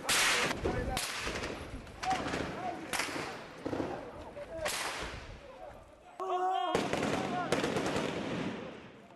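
Sniper and small-arms gunfire in a street battle in Zawiya, Libya, loud cracks and rattling bursts repeating through a chaotic, reverberant soundscape with shouting voices mixed in.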